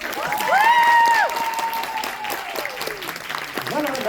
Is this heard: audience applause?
yes